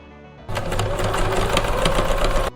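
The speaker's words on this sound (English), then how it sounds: "I sewed the jeans right side together and turned them out" A sewing machine runs in one continuous two-second burst, stitching small doll-sized jeans; the motor whirs with a rapid needle chatter, close and loud, then stops abruptly.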